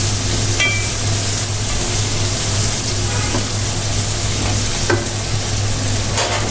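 Prawns fry in a pan for a Bengali pui shak dish, a continuous close sizzle with occasional stirring scrapes over a low steady hum.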